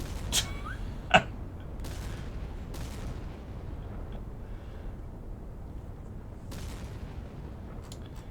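Naval guns firing in the Sea Power naval warfare game, a handful of sharp distant bangs scattered irregularly over a steady rumbling sea-and-engine background, one louder crack standing out near the start, no voices.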